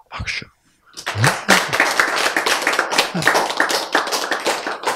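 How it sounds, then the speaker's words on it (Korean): A congregation at a Korean church sermon bursts into lively clapping after a brief spoken word, with irregular claps that build into a sustained, close round of applause. "박수."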